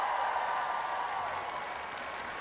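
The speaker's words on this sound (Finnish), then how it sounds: "Ja antakaa valtaisat aplodit meidän lainamiehelle." Concert audience applauding at a live show, dense continuous clapping from a large crowd that holds steady and slowly eases off slightly, with no voices standing out.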